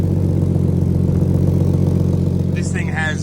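A turbocharged Barra engine in a Holden VT Commodore idles loud and steady, its rough, pulsing drone ticking with exhaust leaks, while a voice starts talking near the end.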